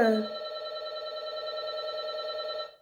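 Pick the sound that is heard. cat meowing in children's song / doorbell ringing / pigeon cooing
doorbell ringing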